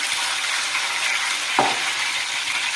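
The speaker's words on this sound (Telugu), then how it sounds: "బాగా వేగిపోయింది అల్లం వెల్లుల్లి పేస్ట్" Ginger garlic paste frying in oil for chicken pickle, a steady close sizzle with a brief scrape of stirring partway through.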